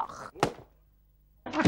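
A balloon bursts with one sharp, close bang, followed by near silence; voices are heard just before and right after.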